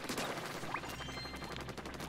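Ink weapon firing in Splatoon 2, a rapid stream of soft, close popping shots repeating over a steady low hum, fairly quiet and continuous throughout.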